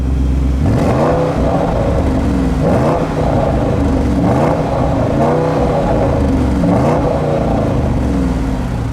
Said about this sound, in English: the Sport exhaust sounds really, really good